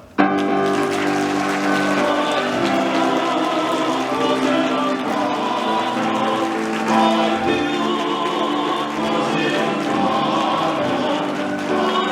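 Wedding hall at Seoul National University as the groom enters, with sustained applause and cheering from the guests that starts abruptly and holds steady for about twelve seconds, with music or voices mixed in beneath the clapping.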